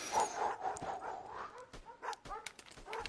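Several dogs whimper and give short yips and barks in a quiet, fairly faint stretch, with brief sharp calls scattered unevenly over the whimpering.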